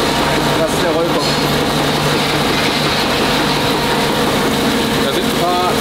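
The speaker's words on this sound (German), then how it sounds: "Das Gewinde wird jetzt hier gerade gerollt. Das ist der Rollkopf." A thread rolling machine drones steadily up close in a factory, its rolling head forming a thread, a continuous low mechanical hum and whir with faint voices in the background.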